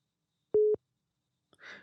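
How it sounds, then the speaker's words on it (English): A phone gives a single short electronic beep, a steady tone lasting about a quarter second in a quiet room, followed moments later by a soft breathy sound. "I hear somebody's phone beeping."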